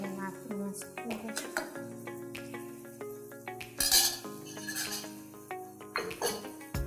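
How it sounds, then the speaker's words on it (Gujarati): A spoon stirring and scraping through mashed potatoes and peas for pav bhaji in a pan, with repeated clinks and knocks against the metal over several seconds, while background sounds and tones continue. "હવે આપણે આને હલાવી દઈશું સરખી રીતે."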